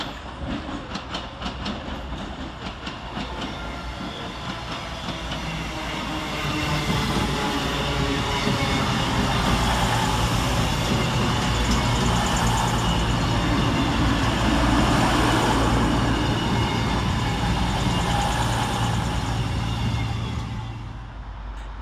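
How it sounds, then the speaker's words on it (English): Cross-country train 221127, a Class 221 diesel unit on the Manchester Piccadilly to Bournemouth service, arriving at Stockport railway station, its engines rumbling steadily and growing louder as it draws in close, with no talking. "Arriving next into the station is 221127, working the 1433 cross-country service from Manchester Piccadilly to Bournemouth."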